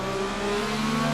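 An IndyCar race car engine revving in Assetto Corsa, Formula Americas 2020 at Mexico City: a steady, loud, whining engine drone holding a near-constant pitch throughout, no talk.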